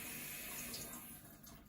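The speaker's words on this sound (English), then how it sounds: "So we've got water flowing in here and then water flowing out of there." Water flows steadily into an animal enrichment feeding tray set up for pea fishing, a soft, continuous trickling and running sound that stays even and fairly quiet throughout.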